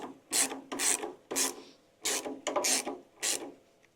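A nut being tightened on engine tinware of a classic air-cooled VW Beetle, heard as six short, close rasping ratchet bursts with brief pauses between them.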